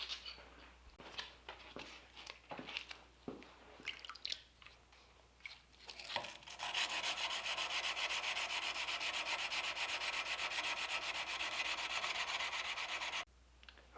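Scattered scraping strokes by hand, then a steady, continuous sanding rasp on the slot of a metal dagger blade that runs for several seconds close up before stopping abruptly.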